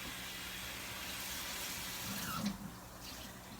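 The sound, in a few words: hot water running from a tap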